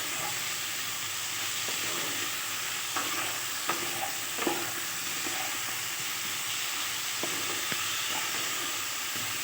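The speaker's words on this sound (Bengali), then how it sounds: "এর মধ্যে ধুয়ে রাখা আলু আর এই কচুটাকেও আমি দিয়ে ভালো করে কষিয়ে নেব।" Potatoes and taro sautéing with spices in a pan, a continuous soft sizzle with occasional scrapes and stirring clatters, fairly quiet and steady, no voices.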